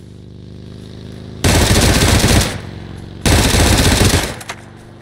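Two long bursts of rapid automatic gunfire in the PUBG battle-royale game, each lasting about a second or more, separated by a short gap, loud and close with no talk.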